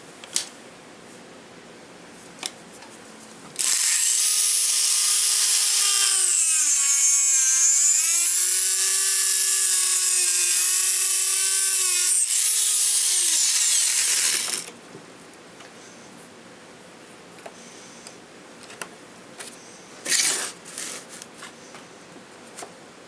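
A high-pitched Dremel rotary tool whines for about ten seconds, its pitch dipping as it bites into stained wood, then stops, leaving a few faint clicks.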